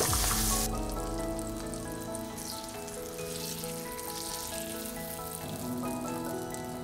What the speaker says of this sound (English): You can just hear the little bit of a sizzle coming out of the garlic.